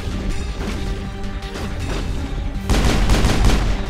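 Mass Effect combat gunfire, a dense run of sharp shots and crashing impacts that builds louder toward the end, close and continuous.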